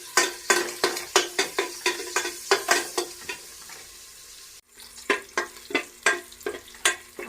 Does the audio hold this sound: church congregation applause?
no